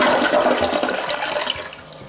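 A first-generation Kohler toilet using 1.6 gallons per flush, heard close up as a rushing swirl of water that tapers off into a gurgle, with no talk over it.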